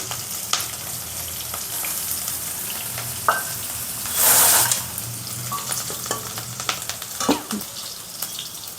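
Onion, green chili and garlic frying in a pan, a steady sizzle with occasional stirring scrapes and clinks, plus one brief louder hiss burst midway; no talking.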